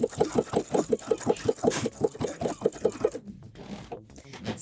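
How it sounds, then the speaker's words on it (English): A sewing machine stitches with a Schmetz triple needle, running in a fast, even pulsing rhythm for about three seconds before stopping, moderately loud and close. "Seems to be sewing nice and smooth so far."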